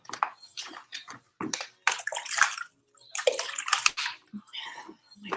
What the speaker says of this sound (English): My buckets of water.